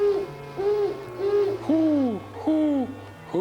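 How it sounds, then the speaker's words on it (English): An owl in a film hoots repeatedly in a clear, loud sequence of five or six hoots, the later ones rising and falling in pitch. "A normal-sized owl."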